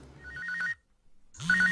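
A telephone rings in two electronic trilling bursts separated by a short silence, close and clear with no one speaking.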